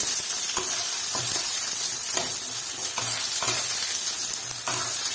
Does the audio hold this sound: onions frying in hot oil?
yes